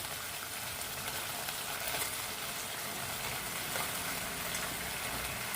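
Soy-and-chilli noodle sauce simmers and sizzles in a pan over a low gas flame while being stirred, producing a steady, close, even frying hiss with faint scraping throughout and no voices.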